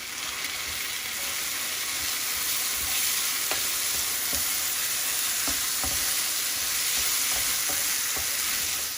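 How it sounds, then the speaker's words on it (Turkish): Rice sizzles and crackles as it is sautéed in tomato paste in a pan, with steady frying hiss and occasional soft scraping stirs, close and continuous with no talking. "pirinçlerimizi 1-2 dakika kavuracağım"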